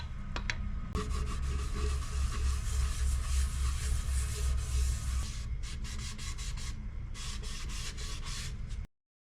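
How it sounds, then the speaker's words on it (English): A rag buffing abrasive sanding paste off turned wood on a spinning lathe: continuous rubbing and swishing over a low motor hum, with rhythmic scuffing strokes that stop abruptly at the end. "Just work that in with the rag until that rag comes back clean."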